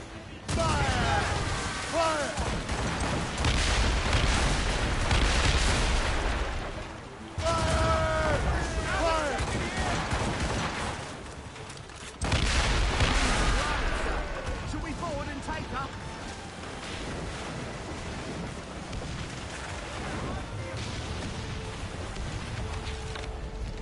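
Ship cannons booming in Assassin's Creed Rogue during a naval battle, a dense rolling barrage of loud blasts that swells, breaks off twice and resumes, with shouted crew commands over it.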